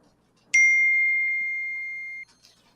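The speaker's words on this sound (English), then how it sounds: "Oh no, the bell just went off" A kitchen bell signalling a ready pizza gives one clear, sustained ring that starts sharply and fades slowly over nearly two seconds before stopping, alone against near silence.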